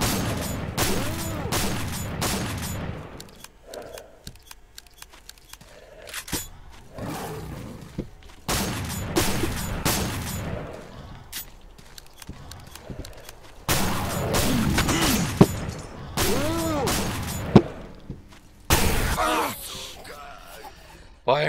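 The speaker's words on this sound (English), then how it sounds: "I'm firing a shotgun down their mouth" Heavy shotgun blasts in Stalker Call of Pribyat Misery Mod, loud booming shots in irregular bursts, mixed with creature growls and a player talking between shots.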